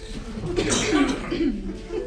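A person coughs and clears their throat a few times, close by, mixed with a brief chuckle.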